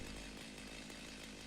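Chainsaw equipment effect from the video game Satisfactory, a steady, loud, continuous motor drone running unbroken without pause or talk.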